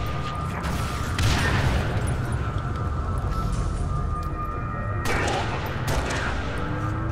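Sustained rapid gunfire from a Halo Reach firefight, dense overlapping bursts with louder volleys near the start and again around the five-second mark, with no talk over it.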